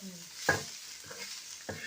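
Onions and chili stirred with a splash of water in an iron pan over a wood-fired stove while cooking dried-fish sukat bhaji, giving sharp scraping stirs and a soft sizzle in three distinct strokes, close by.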